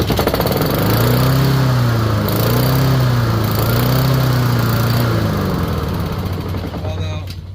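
A Honda HRX217 walk-behind lawn mower engine, freshly oiled with a sharpened blade and not running right, drones steadily and loudly up close with a slightly wavering, surging pitch, then begins to fade near the end.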